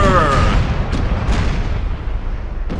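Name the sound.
ship cannons firing a broadside, from video game Imperial Splendour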